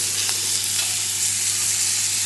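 Foie gras and abalone sizzle in a frying pan, a continuous close frying hiss with a faint steady hum from the kitchen underneath.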